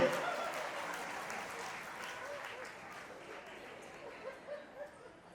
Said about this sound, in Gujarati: તાળી પાડો ભાઈ ભાઈ.